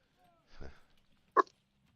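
A pet dog heard at home gives a short muffled woof followed by a sharp single bark, fairly close, with quiet room around it.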